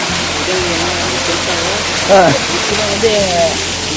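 Ramiyanahalli waterfall, fed by herb-laden water from Sri Mannar Krishnan hill, gives a constant broad rushing roar while someone talks over it close by.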